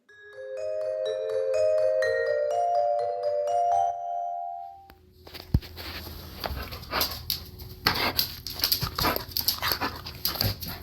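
An elderly Samoyed nearly nine years old breathes and whimpers close by, with quick irregular panting and shuffling that come in after a melodic chime passage.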